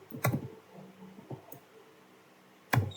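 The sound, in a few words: typing a command on a computer keyboard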